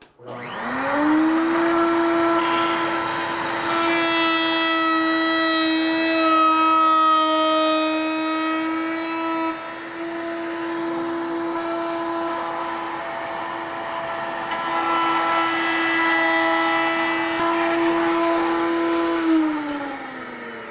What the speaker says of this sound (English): We'll turn the router on, and we'll come in there and make our rabbet cut all the way around all 4 sides.